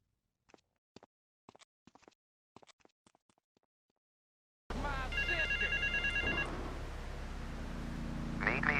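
A payphone in GTA 3 rings with a repeated electronic trill, loud and close, following a quiet stretch of faint clicks and surrounded by ambient game noise.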